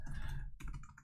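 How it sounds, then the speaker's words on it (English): Rapid typing on a computer keyboard while entering a search field in Business Central, dense clicking key strikes close up with a short pause midway, no voice. "So I keep typing Fred."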